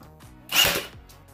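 A brad nail gun drives a nail into interior trim during a home remodel, one sharp burst that cuts through the quiet room.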